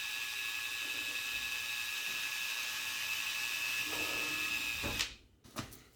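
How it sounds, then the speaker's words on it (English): A continuous high-pitched whine of a drill with a step bit boring a hole in a car bumper for a quick release, running for several seconds, then cutting off abruptly, followed by a couple of short clicks and knocks. "So now we just gotta drill that hole."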